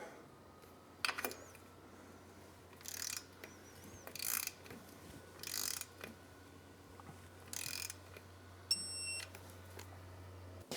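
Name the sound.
ratchet with 10mm socket tightening clamp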